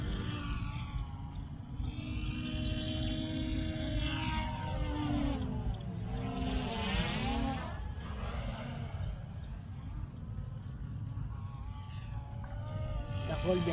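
Eachine EX2H drone flying outdoors, a steady whirring buzz with shifting pitch as it passes nearby, mixed with wind noise and heard under people talking throughout.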